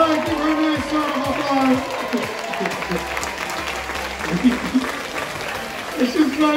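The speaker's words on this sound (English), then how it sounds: "give her a nice round of" An audience on a Carnival Sunrise cruise outing at Half Moon Cay claps in sustained, moderately close applause, while a voice talks over it.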